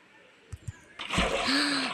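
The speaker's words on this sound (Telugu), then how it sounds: "నీళ్ళు పాకుతూ పోతానే ఇటు" Splashing water in the Minecraft video game: two soft taps, then a sustained rushing, sloshing wash of flowing water that fills the second half, moderately loud.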